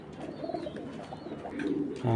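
Racing pigeons coo softly in a low murmur, repeated through the clip, with a louder thump or burst near the end.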